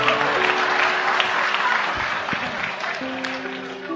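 An audience at a religious talk gathering breaks into full applause, dense steady clapping with some tonal background hum and brief voices mixed in, easing slightly near the end.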